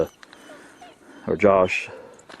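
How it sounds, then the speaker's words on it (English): A German Shepherd puppy whines outdoors in the snow, a short close burst of whimpering around the middle of the clip over quiet background. "that whining you hear, it's my son's dog, Sam."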